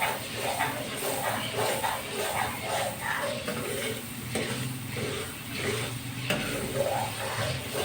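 Chicken karahi with masala and yogurt is stirred in a pan over a medium flame, giving continuous scraping and gentle sizzling in rhythmic sweeps, close and moderately loud.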